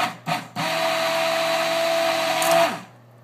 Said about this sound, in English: I have this immersion blender, which I stick in here, and I hold it at a little bit of an angle.